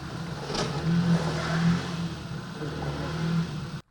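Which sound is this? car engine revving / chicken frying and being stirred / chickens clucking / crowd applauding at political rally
car engine revving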